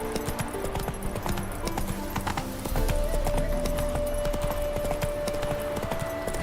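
Roach the horse trots in The Witcher 3, hooves clip-clopping in a steady close rhythm over ambient game music, the hoofbeats growing a little louder partway through.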